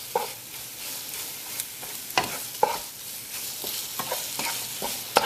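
Lamb jalfrezi with tomatoes sizzles steadily in a pan while a utensil scrapes and stirs it in repeated sharp strokes, close and clear with no talking.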